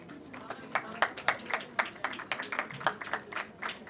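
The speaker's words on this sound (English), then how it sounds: "Please a big round of applause." An audience at an international conference on world religions claps for a certificate presentation, a fairly dense round of sharp hand claps, moderately close and sustained.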